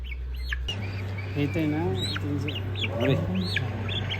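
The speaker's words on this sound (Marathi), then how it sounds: "कोंबडा कधी जवळून बघितला की मित्रांनो." Rooster and chickens clucking and calling close by in a rural yard, with repeated chirpy calls over a steady low hum while people talk nearby.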